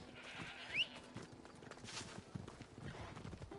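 Horse hooves clip-clopping in the video game Assassin's Creed Odyssey, a steady trotting patter of hoofbeats at moderate distance, with a brief whinny-like call early on and no talk.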